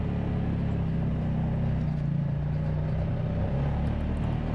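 An off-road vehicle grinds along rough OHV trails in four-wheel drive, its engine a steady, loud, close drone that holds throughout with no voices.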